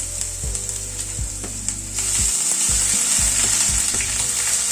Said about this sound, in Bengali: রসুনটা একটু হালকা করে আগে ভেজে নিচ্ছি।